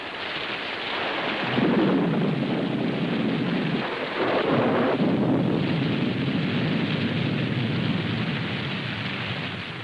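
Heavy rain pours steadily while thunder rumbles in long, deep rolls that swell and fade, a dense continuous storm with no voices.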